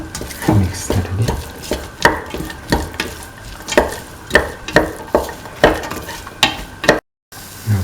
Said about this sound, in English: Mix the kidney beans with the rest of the mixture thoroughly.